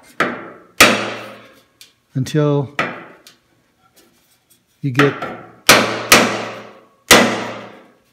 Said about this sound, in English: Giving it a little tap with a hammer